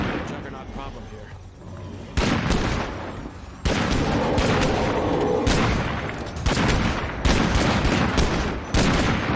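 Loud gunshots and automatic fire blast in dense, sustained bursts with booming impacts during a video game firefight, over a noisy continuous backdrop with a voice talking.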